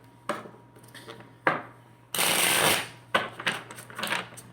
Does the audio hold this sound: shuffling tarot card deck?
yes